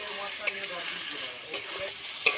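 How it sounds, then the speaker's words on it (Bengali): Malabar spinach stems sautéing in a pan with salt, turmeric and chilli powder: a steady sizzle with a few sharp spatula scrapes and taps against the pan, heard close and without talk. "লবণ হলুদ গুঁড়ো লঙ্কার গুঁড়ো দিয়ে ভালো করে কষিয়ে নেবো একটু"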